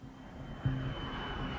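American Flight 49, an airliner flying from Paris to Dallas with 170 people aboard, makes a steady, fairly quiet engine drone that holds evenly throughout with no voices.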